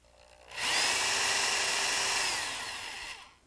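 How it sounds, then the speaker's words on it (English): A power drill bores into clamped wood in a carpentry workshop. The high, steady whine starts abruptly, holds for about two and a half seconds and then winds down, loud and close. "when you start drilling, check the positioning of your drill with the material"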